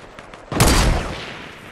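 A single loud sniper shot in the video game Fortnite, a sharp crack with a decaying tail, heard alone without talk.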